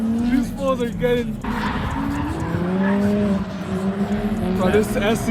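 Drift cars at a drift event at Grange / Apple Valley Speedway, including a supercharged car, with engines roaring and shifting in pitch while tires squeal through a transition, loud and continuous, as spectators talk nearby.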